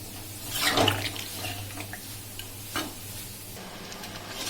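Hot water poured into a pan of browned potato and chicken curry (kosha) while cooking, a brief splashing sizzle and bubbling near the start, then quieter simmering with a few faint clinks.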